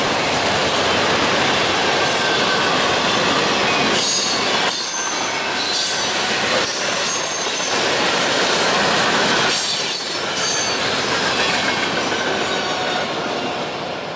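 A short train rumbles past on the rails, loud and close, with clattering wheels and metallic squeals, the roar easing slightly toward the end.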